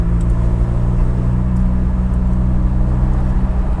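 A turbocharged 200 hp Toyota MR2 sports car is driven, its engine giving a steady, loud low drone blended with road rumble from inside the car, with no talk.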